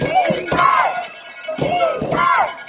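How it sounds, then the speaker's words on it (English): A high school football crowd at Bear River Bruins vs Escalon Cougars cheers and shouts from the stands, with rhythmic cowbell-like clanging in repeating bursts, steady and moderately loud. "Crowd's going wild here, Marty."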